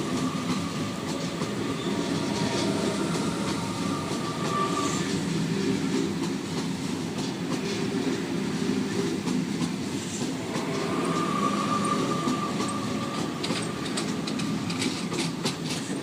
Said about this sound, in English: This train's running about 45 minutes late.